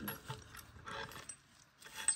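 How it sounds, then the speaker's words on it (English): Ratcheting tool tightening a bolt and washer through a rear suspension bush on a Lotus Elise S1, giving quiet, irregular clicking and mechanical rubbing in short bursts with pauses between them. "I'm going to tighten it all the way up."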